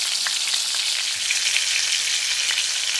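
Pork chops fry in a pan with a steady, close, dense sizzle and crackle that holds evenly without any voices.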